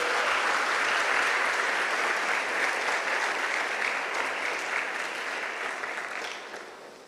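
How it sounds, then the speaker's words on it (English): Full audience applause at an honors convocation, a thick, continuous wash of clapping that holds steady and then tapers off in the final second. "Let's give them another round of applause."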